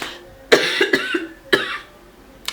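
A few harsh, close coughs in two bursts, each followed by smaller raspy coughs.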